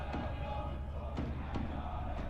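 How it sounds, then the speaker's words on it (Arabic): Football crowd in a stadium chanting in support of Diyala club during an Iraqi Stars League match against Al-Karkh at Captain Sharar Haidar Stadium, a dense distant roar with faint rhythmic thumps. "شاهد هنا الجماهير التي تتغنى وتؤازر فريق ديالى"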